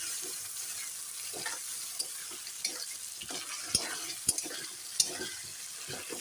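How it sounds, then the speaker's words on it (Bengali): Spice paste of cumin, ginger, garlic and onion sautés in a pan for biryani, giving a steady soft sizzle broken by sharp spoon scrapes and clicks as it is stirred. "মশলাটা এখন দেওয়া হয়ে গেল ভালো করে কষিয়ে নেব মশলাটা"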